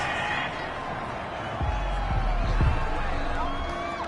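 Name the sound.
home crowd cheering in a PS4 football video game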